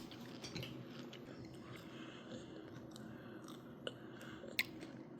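Someone eats crunchy food at home, and quiet chewing and biting fill the moment with soft, irregular crunches and a few sharper clicks, faint and with no talking.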